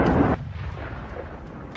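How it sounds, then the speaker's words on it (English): A HIMARS rocket strike hits a Russian howitzer in open Ukrainian fields: a loud, deep booming blast up front, then a long low rumble that fades, with a brief crack near the end. "The coordinates are reported and the HIMARS takes a shot."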